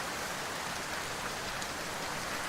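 Steady, dense rain hisses without a break as a small character walks through dark mountains in an indie video game, a soft, even wash of falling water.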